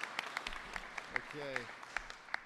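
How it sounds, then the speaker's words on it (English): Sparse, scattered claps from a small audience at a Pennsylvania press conference on a workers' training program ring out at a moderate level, with a voice briefly speaking partway through. "give Dan a warm round of applause"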